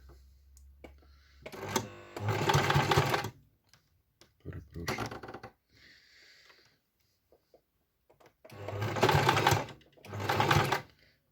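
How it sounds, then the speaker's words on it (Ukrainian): A domestic sewing machine stitches fleece for a buff hat in three loud bursts of rapid whirring, with quiet pauses between them. "Опускаємо лапку і починаємо шити."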